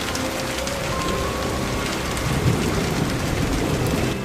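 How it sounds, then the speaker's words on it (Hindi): Heavy rain pours down steadily and densely, an unbroken close hiss of drops on surfaces, with no voices. "अचानक जोर की बारिश शुरू हो गई"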